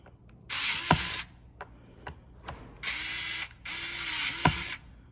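Ratchet tool tightening parts while replacing an Uhlmann spring in a home armory: several bursts of fast buzzing ratchet clicks, close and loud, with metallic knocks between them and no talk.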